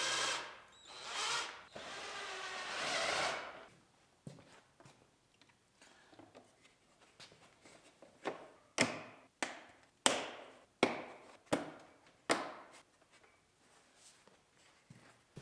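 Plastic bumper parts for a 2018 Ford Explorer Limited AWD clicking into place in a collision rebuild: a few loud whirring bursts open, then a run of sharp, close snaps and clicks spaced irregularly.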